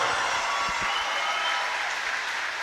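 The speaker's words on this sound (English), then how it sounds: "Ladies and gentlemen, round of applause." An audience at the 2017 British Swimming Championships finals applauds a new British champion and record holder. The clapping is dense and steady, a continuous wash of crowd applause with no talk over it.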